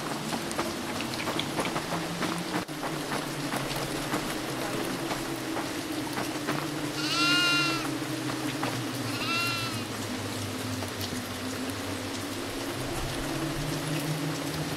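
Two short, thin goat bleats from the horror video game Devour, heard over a steady rain-like background hum, with no talking.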